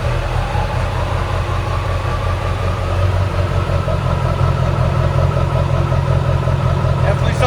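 A 1997 Ford F-350 XLT with a 7.3L turbo diesel and fully straight pipes with a massive tip idles steadily, a loud, close, continuous low rumble with a faint clatter, running alone without speech.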